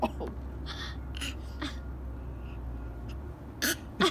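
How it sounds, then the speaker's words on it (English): A child's few short, light, fake cough-like throat sounds come in irregular bursts over a low background hum, sounding small and forced rather than deep. "it's a fake cough"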